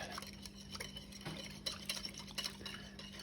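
A spoon stirs a lumpy sourdough starter with water in a bowl, soft scraping and clinking strokes repeating quietly against a faint steady hum.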